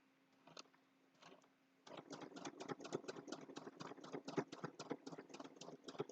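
A sewing machine stitches a quilted Christmas table runner, starting after a quiet moment with a brief burst, then running as a fast, steady rattling whir of needle strokes, close and fairly loud.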